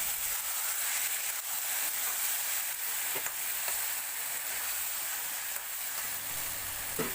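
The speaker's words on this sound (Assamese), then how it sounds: "এতিয়া মই এইখিনি ভালকৈ ভাজি ল'ম" A steady, hissing sizzle of taro leaves frying with spices in a pan, with occasional soft scrapes of stirring, close up and continuous with no voices.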